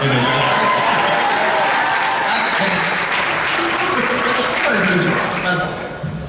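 A packed convention hall crowd at a comic-con panel claps loudly and continuously, with a person briefly speaking over the applause as it tapers near the end.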